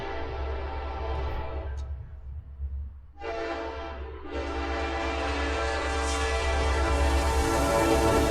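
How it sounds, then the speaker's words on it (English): A train in Huntsville rumbles past close by while its horn blares in long, loud, steady blasts, briefly breaking off before sounding again. "So here's the train, using the same line that they were using even back then"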